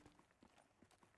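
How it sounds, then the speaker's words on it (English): Soft footsteps in the video game Black Ops 3, a faint rhythmic series of quiet thuds at a walking pace, ending in a sharp click. "Oh, there's footsteps."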